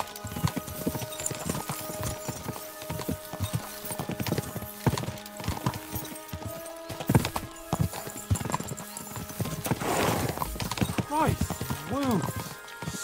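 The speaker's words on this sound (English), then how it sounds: "We should spur the horses on." Horses gallop with steady clip-clop hooves in the video game Kingdom Come: Deliverance 2, the rhythmic beats running throughout amid game music, with a horse whinny near the end and voices talking over parts.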